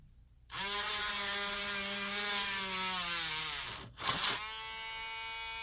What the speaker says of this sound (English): we're just going to drill a hole.